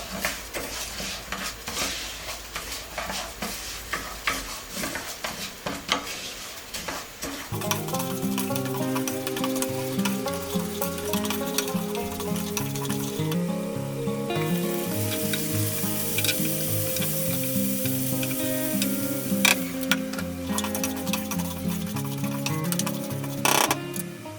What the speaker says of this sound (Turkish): ayçiçek yağımı kızdırdım. Şimdi şehriyelerimi ekleyeceğim. Güzelce bunu da karıştıralım.